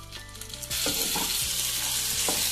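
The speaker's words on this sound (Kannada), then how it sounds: "ಈರುಳ್ಳಿ ಹಾಕ್ಕೊಂಡು ಚೆನ್ನಾಗಿ ಫ್ರೈ ಮಾಡ್ಕೊಬೇಕು" Onions frying in a pan after cardamom, for green masala chicken chops: a loud, steady broadband sizzle that jumps up sharply partway through as they hit the hot oil, with a few scraping stir clicks, no talking.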